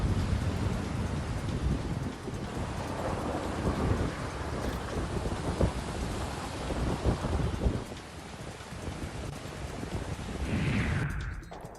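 Heavy monsoon rain pours on Bhiwandi, flooding low-lying areas, a dense roar with deep rolling thunder rumbling through the middle, then easing and swelling again near the end.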